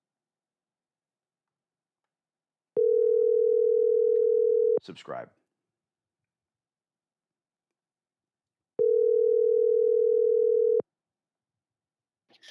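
Calling a client on the phone, two long, steady ringback tones sound about six seconds apart, clear and alone. A brief spoken word comes between them.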